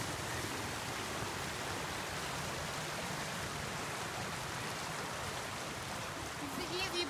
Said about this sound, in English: I don't know what creek this is. Littleton Creek?